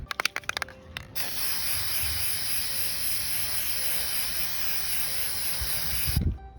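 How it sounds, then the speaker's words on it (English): Krylon varnish sprays from an aerosol can onto a painted rock in one long, steady hiss lasting several seconds, close and clear, preceded by a few light clicks and ending with a soft thump. "We're gonna use some Krylon varnish."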